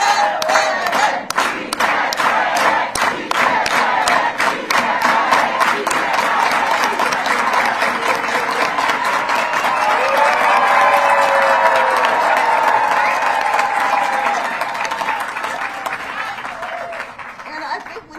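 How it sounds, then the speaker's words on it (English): Rally crowd at a Yes on Prop 50 event with Governor Gavin Newsom loudly chanting "Sí se puede" in unison, punctuated by steady, rhythmic organized hand claps that keep a regular beat throughout, with cheering mixed in. "let's all do it with an organized hand clap"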